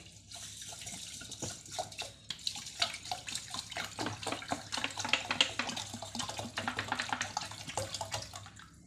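Water runs from a tap into a pot for Thai rice porridge with minced pork, a steady close splashing stream with small clinks of the pot.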